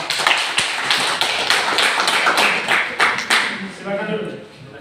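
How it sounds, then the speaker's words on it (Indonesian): A classroom audience applauds during a teacher-training presentation, a dense steady patter of many hands clapping close and loud throughout, thinning slightly toward the end. "Sekali lagi tepuk tangan."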